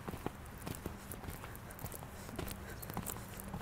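Horse hooves cantering during a riding lesson, a faint, rhythmic clip-clop of steady footfalls heard from a distance.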